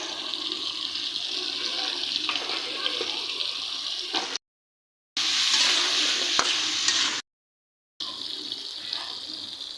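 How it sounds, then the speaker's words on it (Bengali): Ash gourd pieces frying in hot oil give a steady loud sizzle with occasional stirring scrapes, close by, broken by two short gaps of silence. "ওই তেলে আমি চাল কুমড়া ভেজে নিই।"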